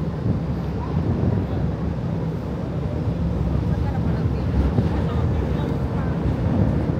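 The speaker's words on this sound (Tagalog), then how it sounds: "Lakas ng hangin." Steady, loud wind roars and buffets the microphone throughout at the Port of Batangas, a constant low rumble with no pauses.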